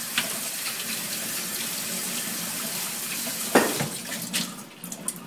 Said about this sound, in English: So I wash it with water so it gets cooled down and nice and cold.